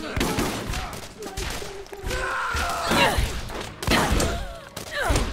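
Sniper rifle fire in the Borderlands video game comes through as loud, booming shots and thuds over a dense mix of game sound effects, with people talking throughout.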